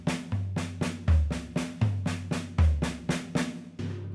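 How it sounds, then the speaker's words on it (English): A drum fill moving between snare and toms, played as an even stream of strokes at roughly equal loudness with no accents, close and alone. "if I play this drum fill without any accents but in the same combination, it would sound like this"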